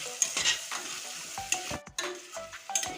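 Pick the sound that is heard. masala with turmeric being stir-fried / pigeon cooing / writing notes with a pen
masala with turmeric being stir-fried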